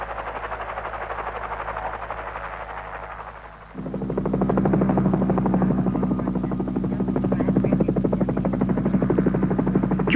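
A helicopter supporting tunnel construction at the Freeport mine drones loudly, its steady engine whine joined partway through by a heavier, closer, pulsing rotor thump that carries on to the end.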